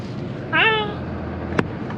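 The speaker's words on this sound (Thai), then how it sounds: "เฮ้ย แมว" A small kitten gives a single short, close meow outdoors in a residential neighborhood, set against a steady low rumble of background noise, with a brief knock shortly after.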